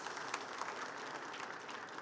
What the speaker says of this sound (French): Je pense que vous voulez les applaudir pour leur participation.